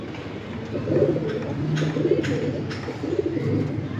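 Chila Giribaz pigeons coo in a loft, several soft throaty coos rolling in overlapping waves close by for the whole stretch.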